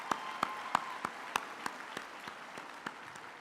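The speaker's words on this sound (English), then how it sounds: "you can give you all another hand of applause." Faint, sparse claps come from a university graduation ceremony audience, with single sharp claps spaced evenly about a third of a second apart. They sound thin and somewhat distant against a quiet hall.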